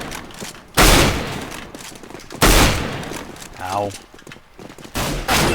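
Gunfire in the Aim Botz training map of a shooter game, with loud, sharp shots in irregular bursts, a brief grunt of pain and short voice sounds between them.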